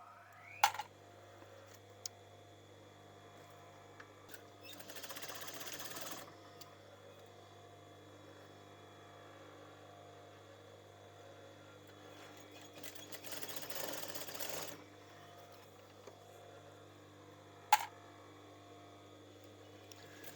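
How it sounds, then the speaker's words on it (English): A sewing machine stitches lace onto a top in short bursts, two sustained runs of whirring needle chatter separated by quiet pauses, with a few sharp clicks between. "I'm going to start stitching around it all now."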